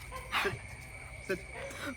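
Dogs at a home give a couple of short barks and yelps with a faint whimper, close by, in brief bursts over a steady background.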